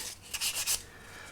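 Sanding sticks rubbing over a 1/24 scale MPC General Lee plastic model kit during cleanup, a few short soft rasping strokes close by, with no talk.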